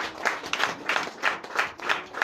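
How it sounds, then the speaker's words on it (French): A church congregation claps together in a steady rhythmic beat during a worship service, each round of hand claps evenly spaced and fairly loud, with no talking over it. "L'acclamation à Jésus"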